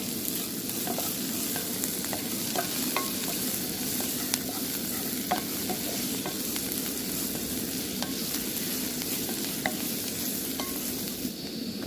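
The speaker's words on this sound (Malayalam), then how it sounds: "ഇനി നമ്മൾ നേരത്തെ കട്ട് ചെയ്ത് വെച്ച ഉള്ളി ഇതിലേക്ക് ഇട്ട് കൊടുത്ത് നമുക്ക് നന്നായിട്ടൊന്ന് വഴറ്റിയെടുക്കണം" Chopped onions sauté in coconut oil in a pan with a steady, dense sizzle, while a spoon or spatula scrapes and taps the pan at irregular moments. No one speaks.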